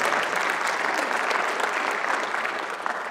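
An audience at a talk on state sovereignty applauds steadily for a few seconds, a dense, even wash of clapping with no voices over it.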